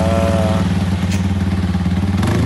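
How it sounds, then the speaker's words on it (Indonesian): A Yamaha MX King 200cc motorcycle with a modified engine idles close by, a steady loud throbbing pulse with no talk over it. "Ini adalah kondisi motor yang sudah jadi dan udah beres, yang dimana motor ini akan dijajal oleh ownernya"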